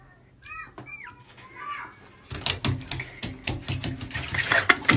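Water gushes steadily into a tub after a few soft cat meows and faint sounds, the splashing rush growing louder and fuller toward the end.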